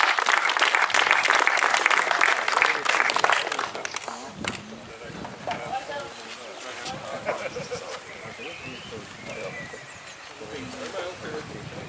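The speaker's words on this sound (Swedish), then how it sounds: "En stor applåd för dem" Audience applause at the Mittsvenska Cupen final in Borås, loud and dense at first, then thinning after a few seconds into scattered clapping and crowd noise with some voices.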